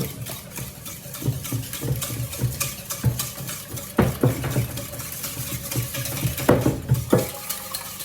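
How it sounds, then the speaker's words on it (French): Quiche filling of cream being mixed in a bowl, a steady rhythmic whisking and scraping with a few sharper knocks against the bowl, close and moderately loud, no talk. "Donc là, je vais mélanger."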